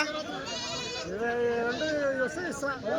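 Goats bleat repeatedly in wavering cries, mixed with people talking nearby at a busy outdoor livestock market.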